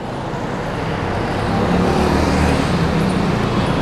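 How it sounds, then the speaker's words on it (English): Continuous roar of cars, buses and other vehicles on a busy main road in Ahmedabad, India, heard from right beside the roadside; a loud, dense wash of engines and tyres that swells slightly as vehicles pass close. "you can probably hear all the traffic noise because truly we are right next to the main road"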